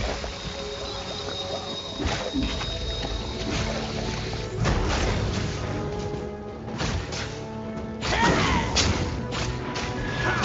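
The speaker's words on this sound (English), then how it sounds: "Team's turret has been destroyed." A turret destroyed in League of Legends during a 5v5 match, heard as heavy thuds and crashing booms that burst repeatedly over a dense, loud game soundscape, with several stronger impacts near the end.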